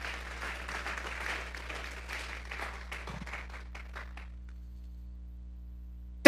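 A church congregation applauds, a dense patter of many hands that thins out and fades over about four seconds, followed by near silence and a sharp thump at the very end.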